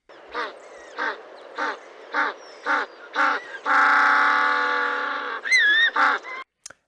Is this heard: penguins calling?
yes